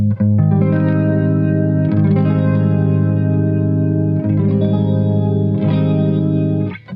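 Electric guitar strumming a major seventh chord through a chorus effect with some distortion and reverb, a sustained ringing chord restruck several times in a steady rhythm, loud and close with no voices.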